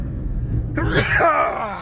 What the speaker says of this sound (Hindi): बहुत तगड़ी छींक आई भाई